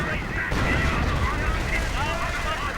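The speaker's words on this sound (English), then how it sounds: "Sticky bombs going off left and right." Sticky bombs exploding amid gunfire in a World War II real-time strategy match, a dense, continuous barrage of booms and shots with a commentator talking over it.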